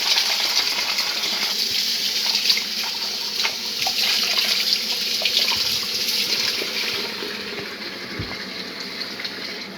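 Freshly picked blue ternate flowers are rinsed under running tap water, producing a steady loud splashing gush with small clinks and knocks, with no speech.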